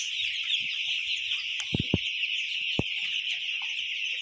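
Chickens cluck in a poultry farm shed of golden chickens holding about 1,700 large birds. A few sharp clucks and calls rise over a constant loud hiss, with no voices.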